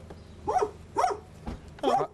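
A puppy gives three short, sharp yips or barks spaced about half a second apart, moderately close, with faint background noise between them.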